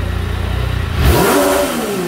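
A brand-new naked motorcycle engine, factory fresh, revs hard and climbs sharply to the rev limiter, its rising pitch sweeping upward in one loud close burst after a steady low idle.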